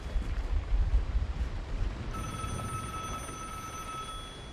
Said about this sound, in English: Someone's ringing the telephone, so if I was to pick that up, it would mark me.